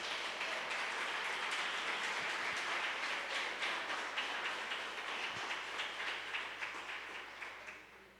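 A church congregation applauds Jesus in a dense, steady wash of clapping that fades gradually toward the end, moderately distant with no voices over it.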